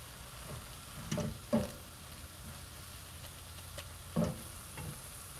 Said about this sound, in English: I'll put the mic over by the pan so you can listen to the noise of it cooking